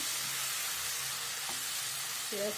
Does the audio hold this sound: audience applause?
no